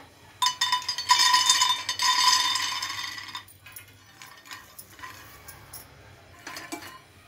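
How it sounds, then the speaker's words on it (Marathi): Raw peanuts tossed and stirred in a hot dry pan, a loud run of hard rattling and clinking for a few seconds, then scattered lighter taps and scrapes. "पॅन गरम करायला ठेवलाय, आपण त्यात शेंगदाणे भाजून घेऊया"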